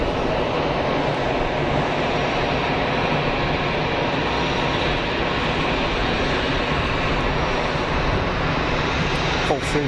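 A Libyan Arab Airlines jet with a gold-tailed livery gives off a loud, steady roar of engine noise at an airport in Geneva, filling the whole stretch without a break.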